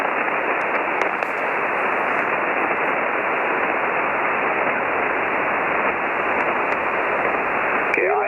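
Weak amateur radio signal buried in steady, loud static hiss that runs unbroken for about eight seconds, with no clear voice rising above the noise.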